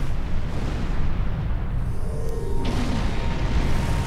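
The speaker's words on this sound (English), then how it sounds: "The explosion killed three of my shuttles" An explosion in the Star Trek Online video game, a dense, rumbling blast that holds loud and steady throughout without any clear break, with no voices heard.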